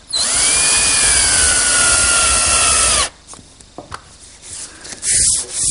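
Power sander doing final sanding on a wooden Queen Anne table, a loud steady whine for about three seconds, then stopping to quieter rubbing and handling noises before a brief restart.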